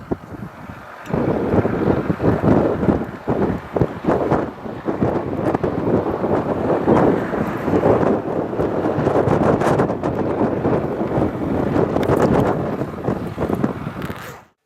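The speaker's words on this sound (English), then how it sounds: "it's very, very windy again." Strong wind buffets the microphone in an open field during ploughing with a Ford 7610 tractor, a loud, continuous rumbling roar with gusting bursts throughout.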